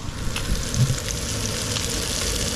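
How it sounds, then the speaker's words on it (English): Freshly caught flounder frying in a pan at home, a steady loud hissing sizzle with faint crackles, close and continuous, no voices over it. "Got the fish cooking, and of course that's the flounder that I caught earlier today."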